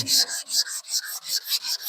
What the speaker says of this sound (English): So I've been sanding this with a 120.